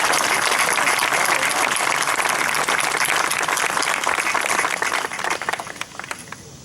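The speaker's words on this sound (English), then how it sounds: "Please give HB another round of applause." Loud, dense applause from a large crowd at a Vietnam Moving Wall memorial event fills the space, then thins out into scattered claps as it fades near the end.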